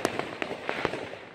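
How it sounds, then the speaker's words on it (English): Fireworks going off at night during a Fourth of July display in Baltimore, a series of sharp bangs and crackling pops at irregular intervals, moderately distant, with no voices. "the fireworks are firing off over here in the darker area"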